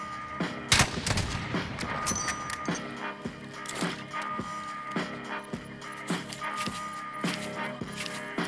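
Gunfire in the video game Warzone: a string of sharp shots, some close and loud, others thinner and more distant, popping at irregular intervals over a steady ambient background.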